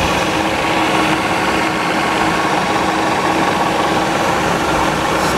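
Hwacheon HL 580 two-metre between-centres lathe in very good condition, spindle turning at 1350 RPM, giving a steady, quiet mechanical hum with faint whirring that holds evenly throughout, no voices.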